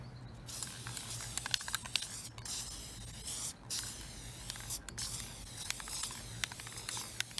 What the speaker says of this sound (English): I'll go ahead and spray the glue on them right now